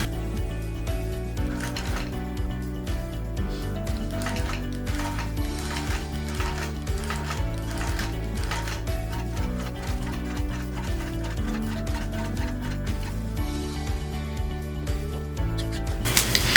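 A longarm quilting machine basting a quilt, running continuously with a loud, close mechanical whir and a rapid rhythmic ratcheting clatter of its moving parts that holds steady throughout.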